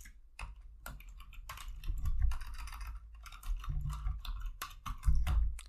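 Typing a command on a computer keyboard while setting up an Ubuntu Linux server, a run of close, irregular key clicks with short pauses, alone without talk.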